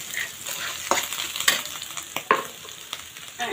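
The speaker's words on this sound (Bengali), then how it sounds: "উল্টো আস্ত জিরা তেলানি দিয়ে দিলাম" Whole cumin seeds sizzling in hot oil, a soft steady crackle with a few sharper pops and scrapes of a spoon in the pan, close and fairly quiet, no talking.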